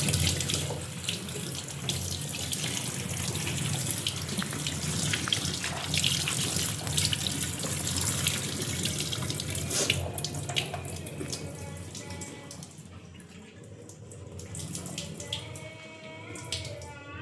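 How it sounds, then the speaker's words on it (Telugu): A tap runs continuously while flowers and leaves are washed under it, a steady splashing stream that shifts and briefly thins toward the end. "ఇంకా ఇవైతే వాష్ చేయాలి ఫ్రెండ్స్."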